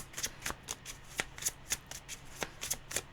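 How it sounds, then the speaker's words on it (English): Tarot deck shuffled overhand, giving a run of quick papery riffles and flicks in an uneven rhythm, close and fairly quiet with no talking. "I don't think that deck likes the overhand shuffle."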